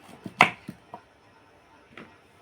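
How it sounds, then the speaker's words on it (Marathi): A knife finely chops onion on a board, giving a handful of separate, close taps, loudest near the start and then sparse. "जेवढा बारीक चिरता येईल तेवढा बारीक बारीक असा चिरायचा आहे"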